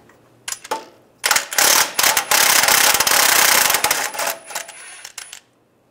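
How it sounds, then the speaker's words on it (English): A 13 mm socket ratchet on a nut under a 2007–2013 Chevy Silverado gives quick bursts of close metallic clicking and rattling, with a long dense run in the middle and a few short trailing clicks. "Take a 13 millimeter socket."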